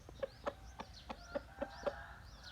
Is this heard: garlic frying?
no